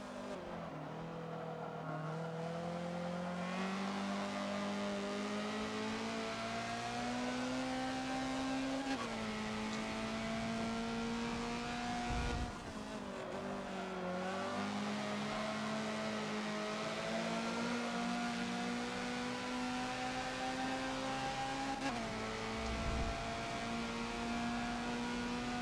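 A Honda CRX runs laps on the Dubai Mountain-R track in Forza, its engine droning steadily and shifting pitch through gears while the tires faintly scrub and squeal through the corners.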